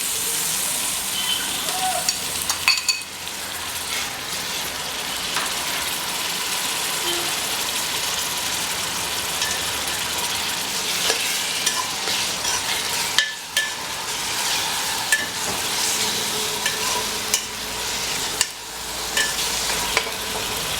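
Fried onions go into a masala for mutton akbari that is already frying, giving a continuous sizzle and hiss, with repeated scraping and clanking stirs of a spoon against the pan.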